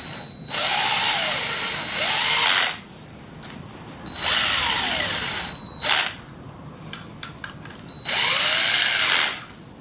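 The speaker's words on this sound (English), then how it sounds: "I've got my old drill on a really low torque setting" A power drill on a very low torque setting, working on a Porsche 928, whirs in three separate bursts of about two seconds each, close and loud, with quiet gaps and light clicks between.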